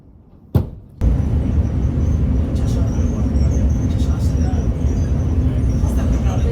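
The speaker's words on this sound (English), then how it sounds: "I've been sitting at this bus stop in Manfredonia for the past hour and 15 minutes." Roadside ambience at a bus stop in Manfredonia, Italy: a steady broadband rumble of traffic and idling engines, with a sharp knock near the start, then continuous murmur and faint higher hiss throughout.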